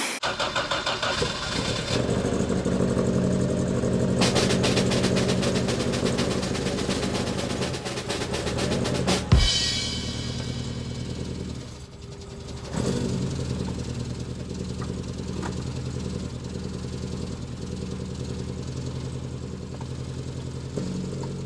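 A Ford Escort ST170 Mk1 engine runs steadily close by during a gear test after a clutch replacement, holding a loud, even idle drone with a brief blip and dip in revs midway.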